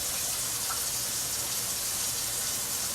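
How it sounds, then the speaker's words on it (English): Starchy rinse water is poured off rice in a kitchen, a steady continuous gush of splashing water running loudly for the whole stretch with no pause. "I pour it out until almost all the water's gone and the kernels start falling down."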